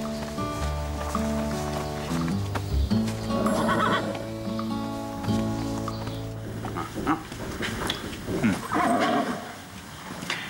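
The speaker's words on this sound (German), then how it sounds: "Aber Pferde. Scheint ein Reiterhof zu sein oder sowas." Horses neighing and whinnying at a riding stable, with a few hoof clops, heard over a dense bed of film music.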